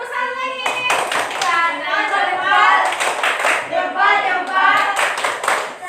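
A classroom of pupils doing the rhythmic 'tepuk salut' clap during a lesson, with repeated hand claps in a patterned beat mixed with children's voices.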